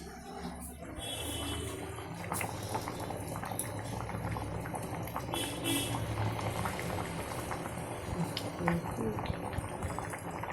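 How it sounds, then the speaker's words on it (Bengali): Water boils in a pot on the stove, a steady low bubbling and churning that carries on throughout at a soft, even level. "এই দিয়ে দিয়েছি জল, এবারে ফুটুক"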